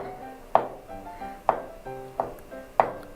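A knife chops sharply on a cutting board, four distinct crisp strikes spaced about a second apart, close and clear with quiet between, cutting mushrooms.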